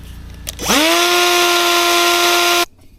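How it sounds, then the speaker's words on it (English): A die grinder whirs up to speed and cuts steadily through a gutter guard for about two seconds, loud and close, with a high whining tone, then stops abruptly. "You can cut these with tin snips, or I like to use a die grinder"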